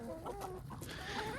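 Chickens clucking in a farmyard among a flock with a young rooster, low throaty clucks close by at a moderate level.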